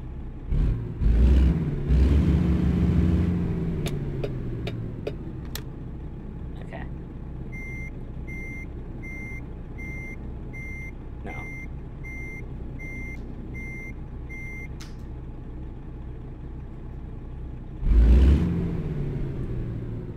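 A truck in American Truck Simulator, with a steady engine rumble and a run of evenly spaced reversing beeps through the middle, a few clunks early on and a louder burst near the end.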